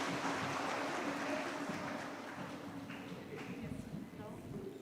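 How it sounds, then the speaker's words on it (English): Sustained applause from an audience at an HR conclave as the panelists come forward for a group photograph; dense, steady clapping fills the room at an even level throughout, gradually thinning slightly toward the end, with faint voices mixed underneath. "Please give a big round of applause."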